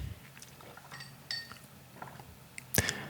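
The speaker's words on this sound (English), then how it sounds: "That clinky noise you hear is me drinking iced coffee." Soft, scattered clinks of ice against a glass of iced coffee, a few light taps and one sharper clink near the end, faint and close in a quiet room.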